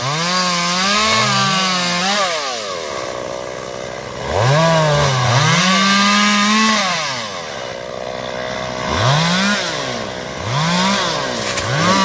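Chainsaw cutting through a mango tree, its loud engine rising and falling in pitch in repeated bursts as it bites into the trunk, close by with no talking.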